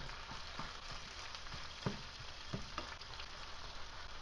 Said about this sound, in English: we're gonna let this simmer now on a little lower heat